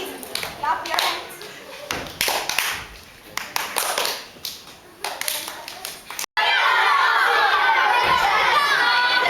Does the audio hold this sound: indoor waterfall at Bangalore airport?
no